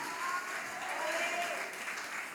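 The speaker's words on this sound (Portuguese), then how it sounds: "Aplaude a Jesus" A church congregation claps together during worship, a brief, steady wash of applause heard from a moderate distance.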